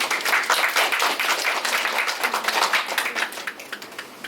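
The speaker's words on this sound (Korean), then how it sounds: "다시 한번 발표해주신 최민영 교수님께 뜨거운 박수 부탁드리겠습니다" An audience applauds after a presentation at a nursing college innovation showcase, steady clapping that holds close and lively for several seconds before thinning slightly toward the end.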